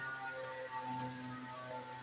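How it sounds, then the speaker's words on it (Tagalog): Steady rain patters down in a continuous wash, with scattered drops and splashes close by; no voices. "Ayan ang ulan."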